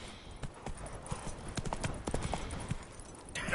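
Roach, a horse in the video game The Witcher 3, trots with rhythmic hoof clip-clops at moderate distance, the steps quickening slightly and growing louder toward the end, with no speech over them.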